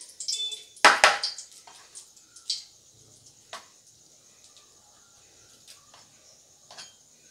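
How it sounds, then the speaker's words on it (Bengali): Dried red chillies fry in hot oil in a kadai while a metal spoon scrapes and clinks against the pan, a few sharp knocks early on, then sparse taps over a faint, steady hiss of sizzling. "লঙ্কাটাকে একটু ভালো করে নেড়ে চেড়ে ভেজে নেব প্রথমে।"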